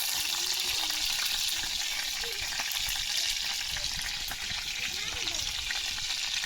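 Chillies fry in a pan over an outdoor jungle cooking fire, giving a continuous loud sizzle with crackling pops throughout and occasional faint stirring.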